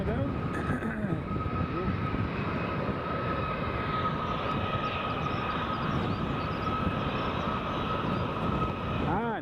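A Loganair plane lands at Newcastle Airport, its engines giving a steady broad roar at middle distance that holds throughout, with faint voices in the background.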